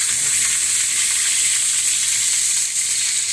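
Extra virgin olive oil sizzles steadily in a hot pan, a dense, even frying hiss that stays loud and close throughout with no voices over it.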